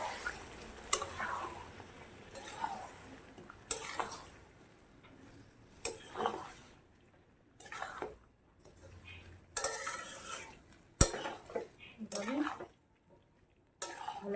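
Chicken and water are stirred in a pot with a spoon, making intermittent scraping and clinking strokes at irregular intervals, separated by short quiet gaps.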